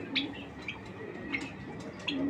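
A female racing pigeon gives soft coos and short chirping calls close by, a few brief notes spaced across a couple of seconds.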